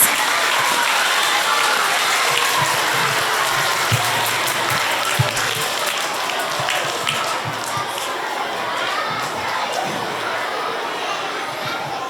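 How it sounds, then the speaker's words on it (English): A school student-of-the-month assembly crowd gives long, loud, continuous applause for three demonstrators, with a faint murmur of voices and occasional louder claps within the steady clatter. "Let's hear a very big round of applause for my 3 demonstrators."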